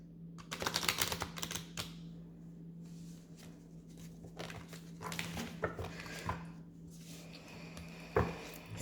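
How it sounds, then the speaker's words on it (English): Quick riffling bursts of playing cards being shuffled close by, several rounds in succession with soft taps between them. "So I'm just going to shuffle it."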